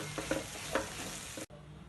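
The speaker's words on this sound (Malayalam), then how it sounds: "എന്നിട്ട് നല്ലപോലെ മിക്സ് ആക്കി കൊടുക്കാം." Chana masala with fresh coriander leaves is stirred in a hot pan. A spoon makes a steady, close mix of soft scraping and sizzling that stops abruptly partway through.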